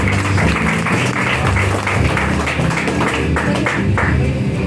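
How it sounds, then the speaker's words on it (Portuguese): A church congregation claps together at an evangelical thanksgiving service, a dense, steady wash of many hands with music and a low hum running underneath the whole time. "bate palmas da glória a Deus"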